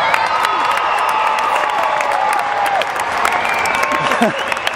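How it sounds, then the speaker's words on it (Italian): Steady applause from a large crowd at a stadium parish youth festival, with scattered cheers and shouts, dense and continuous throughout. "i suoi collaboratori qui sparsi per il parterre del campo che si meritano un applauso"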